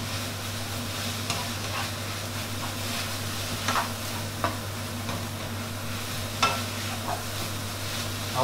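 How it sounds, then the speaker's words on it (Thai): Pad thai with shrimp being stir-fried in a wok, a steady sizzle of frying under a constant low burner hum, with occasional scraping and tapping of the spatula against the pan, close and fairly quiet, no talk. "ก็ผัดให้เข้ากันครับ"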